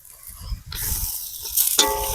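Small cut pieces of goat skin dropped into a hot pan with fenugreek leaves and onion, a sudden loud hiss that swells into continuous close sizzling.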